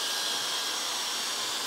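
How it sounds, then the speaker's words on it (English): A Dyson hair dryer powered from a portable power station runs steadily up close, a constant high-pitched whooshing blow with no pauses or other sounds. "I connected a Dyson hairdryer. Let's power it on, see what happens."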